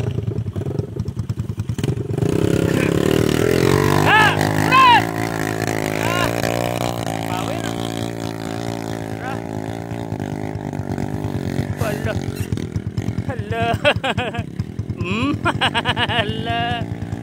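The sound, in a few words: motorcycle engine revving and accelerating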